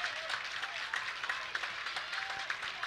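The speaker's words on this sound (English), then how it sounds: "And the crowd getting back into it now." A baseball crowd at a college game between Michigan and Rutgers applauds and cheers steadily, a dense, distant-sounding wash of clapping with commentary audible underneath.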